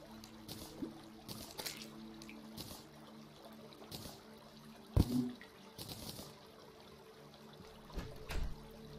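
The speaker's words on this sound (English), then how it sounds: "I see a water fountain." A water fountain flows in the video game Terraria, a steady soft trickle and splash running throughout with brief clicks and game sound effects over it.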